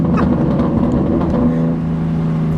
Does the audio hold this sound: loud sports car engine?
yes